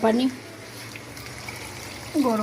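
Hot water is poured into a chicken curry cooking with mung dal, a soft steady trickle heard between stretches of someone talking.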